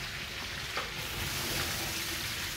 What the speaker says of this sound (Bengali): এই যে ধুয়ে নিয়ে আসছে, এবার কিন্তু মাংসের মধ্যে দিয়ে দেওয়া হচ্ছে।